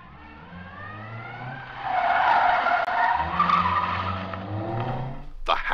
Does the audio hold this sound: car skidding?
yes